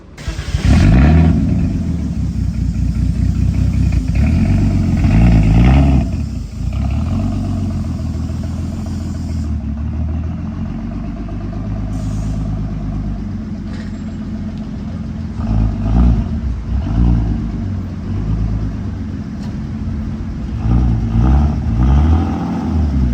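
A BMW with a turbocharged M50 engine fires up after a push start and pulls away, its loud mid-range engine rumbling and revving in surges, the note fluctuating as it drives off, close and steady throughout.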